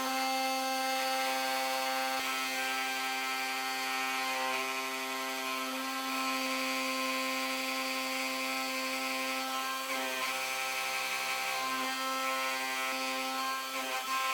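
A Shapeoko XXL CNC router spindle at 16,000 RPM faces stock at 35 inches per minute, half-millimetre depth of cut, 65% stepover, giving a loud, steady, high whine rich in harmonics that shifts slightly in pitch partway through.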